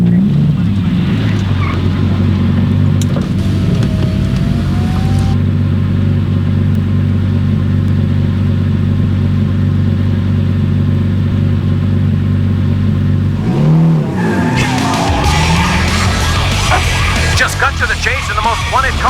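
Cars race through a video game chase in Need for Speed Hot Pursuit 2, with a steady loud engine drone and rumble, a tire squeal near the middle and a burst of revving and skidding toward the end, under talk.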